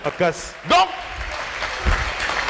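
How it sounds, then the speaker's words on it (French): A church congregation applauds as a pastor preaches, a steady wash of clapping under and after his raised voice. "Acclamons très fort pour le monde."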